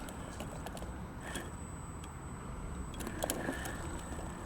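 A small electric RC crawler running on its stock battery whines steadily as it drives, with faint clicks and rattles of the chassis and tyres gripping terrain, close and fairly quiet without speech.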